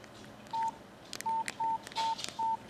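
Keypad tones from a Nokia Express Music phone while a text message is typed: five short, clean electronic beeps at an uneven pace, fairly quiet, over a faint background.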